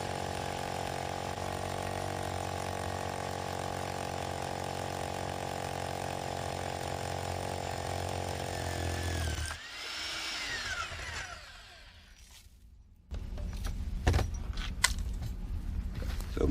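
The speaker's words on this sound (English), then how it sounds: "This really makes a clean and professional finish when you drill through the foundation wall." A steady, loud grinding drone of a core drill boring through a brick foundation wall runs for several seconds, then cuts off, leaving quieter scraping and clunking.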